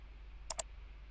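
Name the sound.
mouse clicking while using the pen tool in Illustrator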